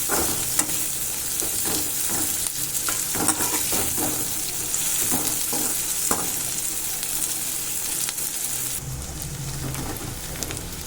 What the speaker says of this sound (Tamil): வெங்காயம் வந்து நல்லா வதங்கி வந்துருச்சு